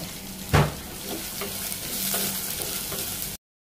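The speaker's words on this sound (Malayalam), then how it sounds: "ഉള്ളി ഒരല്പം ചുമന്ന നിറം ആവുന്നവരെ ഇതൊന്ന് വഴറ്റി കൊടുക്കണം" Shallots sauté in oil in a pan until reddish for a Trivandrum-style fish curry with mango and drumstick, giving a steady close sizzle with a sharp stirring scrape near the start before cutting off abruptly.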